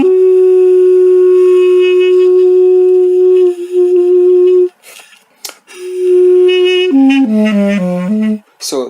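An Armenian duduk, its reed being tested, sounds a long, steady, buzzy tone close up, slightly scratchy when blown harder, falls silent briefly, then resumes and steps down through several lower notes.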